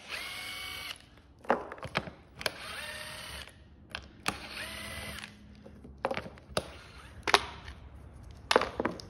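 A power drill takes apart a boat stem laminating jig in a workshop, giving short repeated whirring bursts with pauses and clunks between them, close and loud, without speech.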